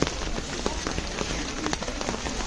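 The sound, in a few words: rain falling at Guna Cave, Kodaikanal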